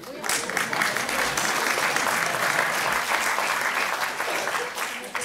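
A conference audience at a French colloquium on employment and career retraining breaks into sustained applause after a speech, a dense, even wash of many hands clapping at moderate level throughout, with faint voices mixed in.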